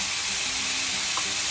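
Garlic sizzling in butter with mushrooms in a pan, a steady close frying hiss with faint stirring, no talk.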